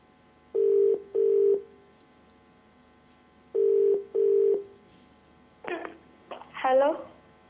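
Two paired phone ring tones sound on a game show set, repeat after a pause, then a voice answers over the line with brief speech.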